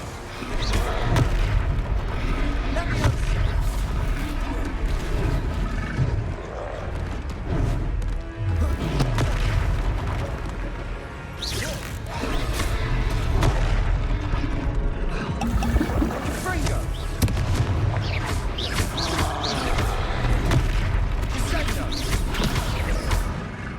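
Fire spell explosions in the Hogwarts Legacy game, loud continuous booms and crashing blasts layered with battle music and effects, with a voice shouting spell names over it.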